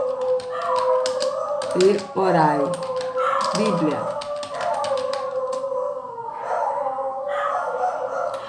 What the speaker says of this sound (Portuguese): Todo dia esses cachorros ficam latindo.